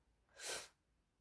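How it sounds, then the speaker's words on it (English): A single sharp sneeze bursts out of near silence, breathy and bright, lasting about half a second. "I feel like I'm going to sneeze"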